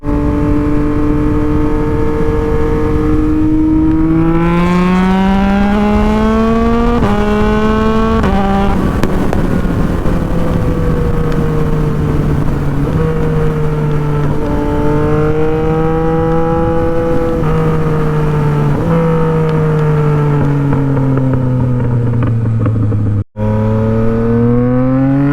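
A tuned Yamaha MT-09 motorcycle is ridden hard from the rider's seat, its engine revving up and down through the gears with rising, swooping pitch, loud and close, with wind noise and no talking.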